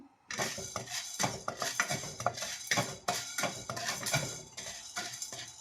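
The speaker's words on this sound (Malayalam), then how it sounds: "അടുത്തത് കടലപ്പരിപ്പ് എണ്ണയൊന്നും വേണ്ട എണ്ണയില്ലാതെയാണ് എല്ലാം വറുക്കുന്നത്" Chana dal dry-roasting in a pan without oil, stirred continuously with a metal spoon, giving dense, rhythmic scraping and rattling clatter close up, with no talking.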